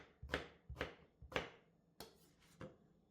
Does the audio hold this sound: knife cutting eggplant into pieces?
yes